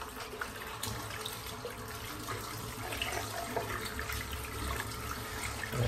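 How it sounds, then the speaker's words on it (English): A shaving brush being rinsed of soap under a running tap gives a steady, close splash of water that continues for the whole stretch with no talking. "I'll rinse out the soap."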